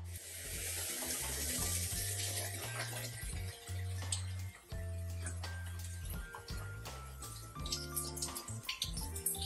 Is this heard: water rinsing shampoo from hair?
yes